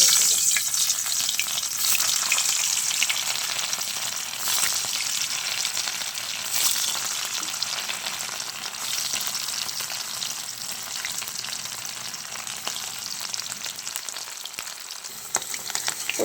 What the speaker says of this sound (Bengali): এখন আমি পনিরগুলো ভেজে নেব